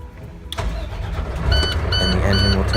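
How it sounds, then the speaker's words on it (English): A fire engine's motor cranks and catches after the start button is pressed, its engine rumble swelling and holding steady at a loud, close idle with no talk. "push and hold the engine start button"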